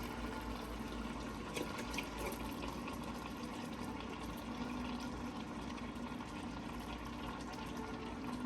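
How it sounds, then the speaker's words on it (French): Palm oil poured into a cooking pot while preparing cassava leaves with beef shank, giving a steady liquid pouring and splashing wash that continues evenly throughout, close and moderately loud with no talking. "je vais rajouter mon huile de palme"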